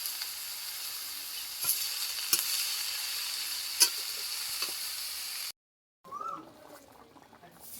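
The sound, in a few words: cabbage added to frying fish heads, sizzling in the pan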